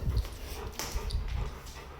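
Golden retriever whimpering and panting close by, with soft breathy pants and faint thin whines over a rumbling indoor background.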